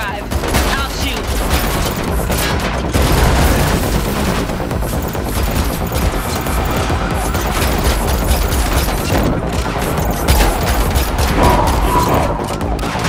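Dense, continuous automatic gunfire and booming impacts in The Matrix Awakens, an Unreal Engine 5 driving-and-shooting chase, loud and relentless throughout with a voice briefly audible beneath.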